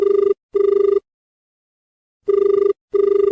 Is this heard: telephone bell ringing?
yes